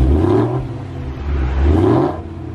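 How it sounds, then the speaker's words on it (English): An engine revs twice, rising and falling in two swells with a steady low rumble between, close by and fairly loud. "a couple revs."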